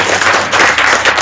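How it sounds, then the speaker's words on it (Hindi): Group clapping in a Hindi-language live training session on a women's health insurance policy in Mira Road, a short dense burst of hands filling the room at steady loudness. "बजाओ ताली"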